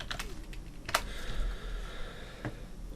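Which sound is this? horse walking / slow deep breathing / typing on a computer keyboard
typing on a computer keyboard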